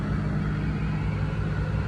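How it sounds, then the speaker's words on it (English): A 2005 Cadillac Northstar car engine idles steadily after running hot for a long while, a continuous low rumble with a mechanical hum, close and even throughout with no talking. "I've been letting this car run for about 20 minutes now."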